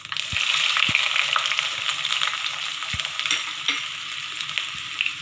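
Shallots frying in hot oil with cumin seeds, a steady close sizzle and crackle running throughout, with occasional light pops and scrapes.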